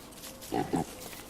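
Pigs in the Don't Starve video game give two short low grunts in quick succession, faint against a quiet background hum.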